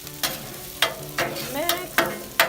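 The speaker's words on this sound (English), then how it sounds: "We're gonna be cooking our garlic" Garlic, about three cloves, stirs and sizzles on an outdoor griddle, with sharp scraping strokes of a spatula landing roughly every half second over a steady frying hiss.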